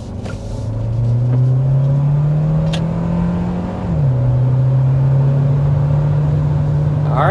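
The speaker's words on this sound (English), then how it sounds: "we need to start with a hard acceleration to show you what this new hybrid powertrain is all about" Kia Sportage Hybrid compact SUV under hard acceleration, a steady engine drone rising in pitch, dipping briefly at a gear change, then climbing again, loud and continuous from inside the cabin, no talking.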